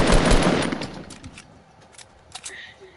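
Gunfire in Fortnite: a loud burst of rapid shots at the start fades out, followed by a few scattered fainter shots.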